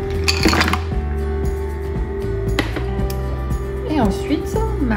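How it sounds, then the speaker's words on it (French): Ice cubes clink and clatter as they drop into the jar of a Fagor Connect & Compact blender, heard as a few sharp knocks over a steady background hum, with a voice in the background. "Mes petits glaçons."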